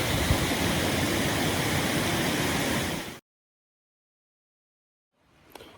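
River water during salmon season flows in a loud, close, steady rush for about three seconds, then cuts to near silence before faint rustling returns at the end.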